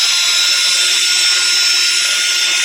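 A drill fitted with a polishing ball spins against an aluminum wheel, giving a loud, steady high-pitched whine and hiss that runs unbroken throughout with no talking.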